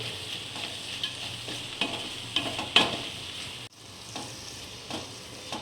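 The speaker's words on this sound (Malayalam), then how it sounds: "ഒരു ടീസ്പൂൺ ഉപ്പ് ഒന്ന് മിക്സ് ചെയ്ത് കൊടുക്കുക" Salt being stirred into crab masala with crushed garlic in a pan: a steady sizzle under repeated scraping strokes of a spoon, with one sharper scrape midway and a brief drop before the frying resumes.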